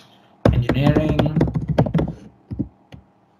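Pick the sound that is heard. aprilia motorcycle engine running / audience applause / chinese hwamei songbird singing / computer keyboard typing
computer keyboard typing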